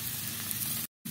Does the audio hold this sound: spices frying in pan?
yes